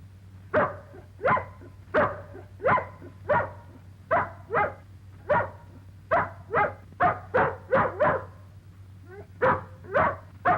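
A dog barks repeatedly in short, evenly spaced bursts, about twenty in all, loud and close over a low steady hum.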